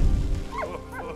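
A dog in the video game Valiant Hearts: The Great War gives short, close yipping barks as it leaps forward, a couple of quick whimpering yelps.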